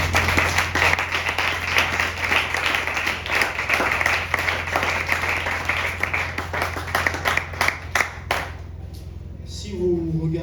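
A crowd at a church youth convention claps in a steady, rhythmic beat of many hands for about eight seconds, then the clapping thins out as a voice takes over.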